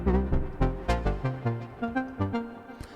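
Self-made glitchy synth arpeggio plays a melodic track on an Ableton Move, with plucky repeating notes stepping in a steady rhythm over low bass tones, clear and close with no voices.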